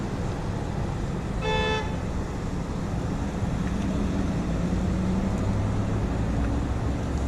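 A car horn at a street protest gives a single honk of about a second amid steady traffic noise, outdoors and moderately close.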